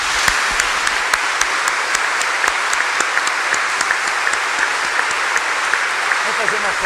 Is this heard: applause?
yes